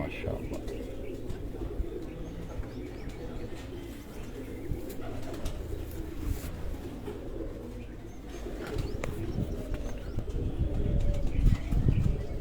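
Pigeons at a home loft in Sargodha coo steadily in low, throaty, rolling calls, with occasional wing flaps and chirps, while someone talks over the flock throughout.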